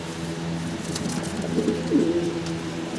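Giant Homer pigeons of Andalusian coloring coo softly in a few low, throaty bursts, close by over faint background hum.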